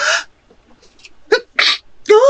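A single person's loud, close sneeze, preceded by a few sharp breathy gasps as it builds, with speech-like voicing around it.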